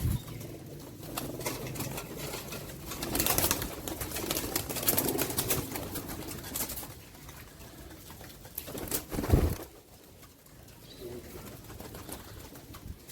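Pigeons in a loft give soft cooing and fluttering, with wing patter and shuffling throughout and a louder burst of movement near the end, heard fairly close with no talking.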